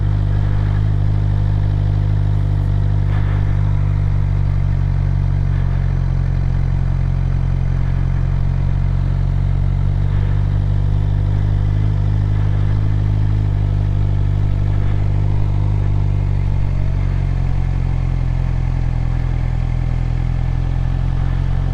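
A beginner's motorcycle runs in first gear through slow figure eights, giving a steady, loud engine drone throughout with no talking.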